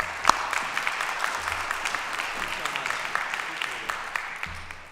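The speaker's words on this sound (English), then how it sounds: "Give him a round of applause." An audience gives the mayor a round of applause at a Blue Zones Project community event, steady moderate clapping from a roomful of people that gradually fades toward the end.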